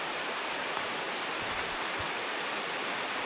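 Rain falls steadily outdoors, a dense, even hiss that holds without a break for a few seconds, with no voices over it.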